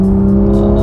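Porsche 911 GT3 with a 4-litre engine pulling hard on the Sepang circuit, a loud, steady, close engine drone with strong low harmonics held throughout, without talk.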